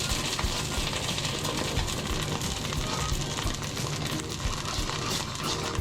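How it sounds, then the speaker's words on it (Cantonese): Salted egg yolk sauce stir-fried in the bottom of a wok while cooking mud crabs with spring onion and ginger, a loud steady sizzle with scraping stir noises throughout and no voices. "將啲鹹蛋黃醬喺個鑊底度炒一炒佢"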